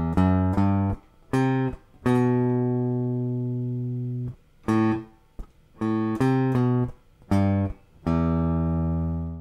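Clean electric-style guitar plays the main riff of a song, a run of plucked notes starting on the open top string, with short repeated phrases and sustained ringing notes, alone and close.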